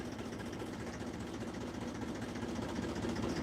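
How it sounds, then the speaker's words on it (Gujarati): A farm tractor engine runs at a steady idle, a continuous low throbbing rumble heard close and alone without any talk. "આપણું ટ્રેક્ટર ચાલુ કર્યું છે ઘડીક"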